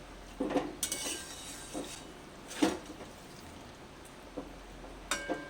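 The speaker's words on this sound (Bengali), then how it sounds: "আবার ঢাকা দিয়ে দিচ্ছি" A metal lid clinks and rattles onto a cooking pot while paneer and cauliflower cook, with several faint separate clanks over a quiet kitchen background and no talk.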